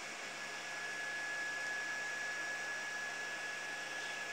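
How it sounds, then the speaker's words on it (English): An Ormerod 2 3D printer runs mid-print with its extruder motor working, giving a steady, continuous whir and airy hiss with a thin, constant high whine throughout and no voices. "You can kind of see the extruder motor working."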